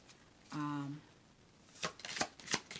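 Tarot cards being shuffled and cut, heard as a short flurry of riffling followed by several sharp, close card slaps and taps, with a brief hum before them.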